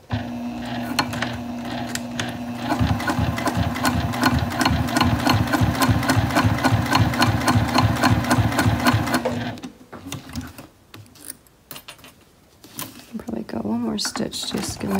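Sewing machine stitching the lining around the window of a fabric ID holder, a fast steady mechanical whir-and-clatter of stitches for about nine seconds, then stopping; a voice speaks over the quieter handling afterward.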